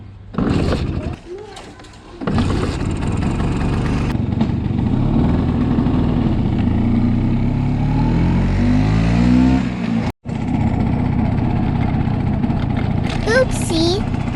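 A 1982 Vespa scooter nicknamed Bumblebee, out on a test ride. Its small two-stroke engine buzzes loudly and close, rising and falling through revs with a brief pause and a sudden cut near the end, and no one speaks.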